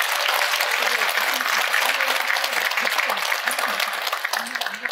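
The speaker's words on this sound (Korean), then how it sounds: "여러분 큰 박수 부탁드리겠습니다." An audience at the Samcheok City Choir's regular concert breaks into loud, sustained applause lasting about five seconds, dense and continuous, with a voice faintly audible underneath.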